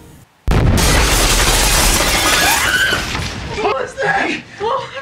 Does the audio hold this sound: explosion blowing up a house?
yes